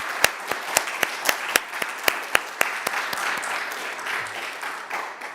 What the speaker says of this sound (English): please join us in a round of applause to say thank you